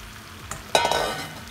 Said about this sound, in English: Now we're gonna slowly add the spinach, which will wilt.